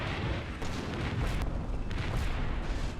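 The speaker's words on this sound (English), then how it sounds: "It should be a pretty extended duration artillery strike." Artillery strike in the wargame Combat Mission: Red Thunder, a sustained rolling barrage of deep booms and rumbling blasts that runs without a break, loud and dense, with no voices.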